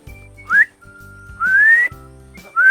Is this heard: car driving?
no